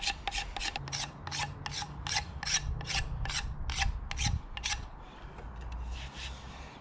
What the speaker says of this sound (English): I'm just going to marry this in with a card scraper just to neaten it up a little bit